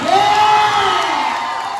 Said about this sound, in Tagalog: kusog na palakpak o syagit sa tanan